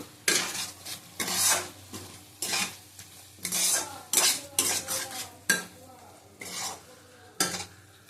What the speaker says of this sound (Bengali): ঝাল লঙ্কার গুঁড়ো দিলাম এক চামচ বেশি দেবো না ভালো করে আবার কষিয়ে নেব